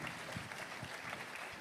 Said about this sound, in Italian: Se mi permettete facciamo un applauso anche alle università